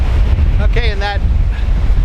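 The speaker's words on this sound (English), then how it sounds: "A little breezy today at the beach, to say the least. A lot of breezy." Strong wind buffets the microphone on a breezy beach at low tide, a loud constant roar with surf under it and a brief voice breaking through midway.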